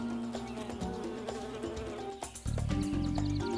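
A bee buzzes close up at a flower, a steady, fairly loud drone that shifts pitch in steps partway through.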